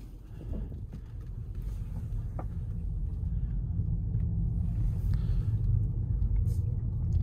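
Road rolling noise inside a Peugeot 308 SW PHEV hybrid on the move, a steady low rumble of tyres and cabin drone that builds slightly and holds, with no talk.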